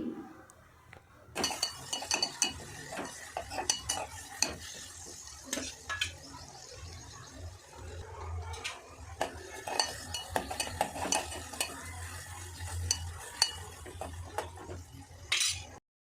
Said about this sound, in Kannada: ಆಫ್ ಬೀಟ್ರೋಟು ಆಫ್ ಕ್ಯಾರೆಟ್ನ ಎಣ್ಣೆ ಒಳಗಡೆ ಹಾಕಿಬಿಟ್ಟು ಈ ಥರ ಕಲಿಸ್ಕೊತಾ ಇದ್ದೀನಿ ನೋಡಿ